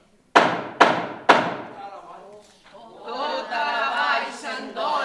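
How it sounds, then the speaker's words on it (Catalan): Three sharp, heavy wooden thuds from an adze striking wood, evenly spaced, followed by a low, sustained murmur of voices and ambient noise. "Oiu? Quins cops d'aixola?"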